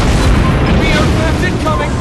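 An enemy warship explodes in the naval battle game Warships Blitz, a loud, dense boom with rumbling debris that sustains for about two seconds amid busy battle noise.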